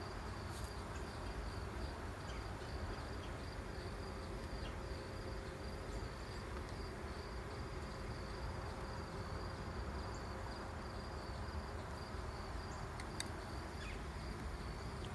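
Honeybees buzz inside an opened, well-filled beehive during an inspection, a soft continuous droning hum that stays faint and even throughout, with no talk.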